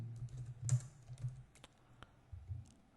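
A computer keyboard clatters as C code is typed, with quiet, close keystrokes landing in uneven clusters and short pauses between them.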